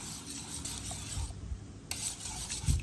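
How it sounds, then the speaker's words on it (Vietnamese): Soft rubbing and scraping of a utensil gently stirring flan custard mixture in a bowl, quiet and close, with irregular light strokes and no talking. "Mình khuấy đều đều và chứ mình đừng có khuấy thật là mạnh quá"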